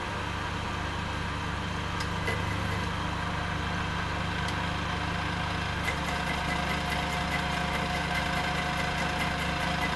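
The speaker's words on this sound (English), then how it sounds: "Start the grinder." A grinder used for making decorative shaft ends runs steadily with a constant machine hum and vibration, its tone shifting slightly partway through, with no voices.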